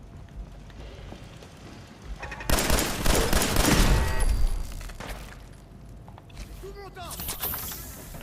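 Video game gunfire crackles in a dense, loud burst of rapid shots lasting about two seconds, then a shorter volley near the end, over a quieter game background.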